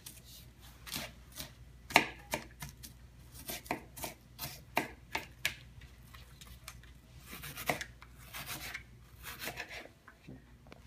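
Onions chopped with a knife on a cutting board: a run of quiet, close, uneven taps that clusters into quick bursts, over a faint background. No voices.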